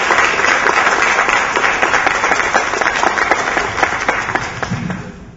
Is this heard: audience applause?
yes